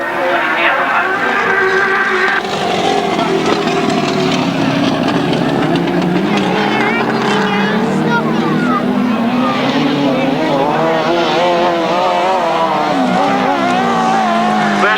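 Grasstrack motorcycles racing at the 1992 Berks Bonanza, several engines whining and revving continuously from mid-distance, rising and falling as they pass, with a commentator talking over them.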